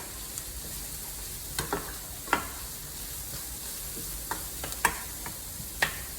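Onions and oregano seasonings for a keto picadillo sizzle steadily in a pan, with occasional crackles and pops and no talking.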